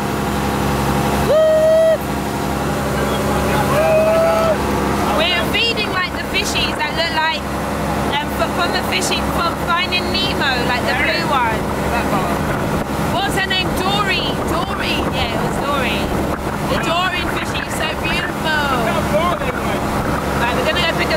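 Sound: boat engine running

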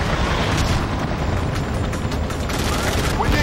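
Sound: gunfire and explosions in the video game Battlefield 2: Modern Combat

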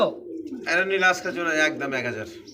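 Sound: Pakistani high flyer pigeons cooing

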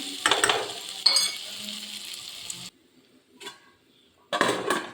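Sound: stirring potato and capsicum stir-fry in a pan

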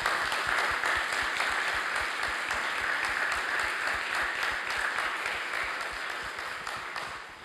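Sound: audience applause

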